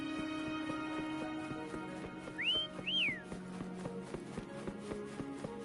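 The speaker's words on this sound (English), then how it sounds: "Try whistling." A rising, swooping two-note whistle calls a horse in the video game Wuthering Waves, followed by clip-clop hoofbeats over a steady game soundtrack.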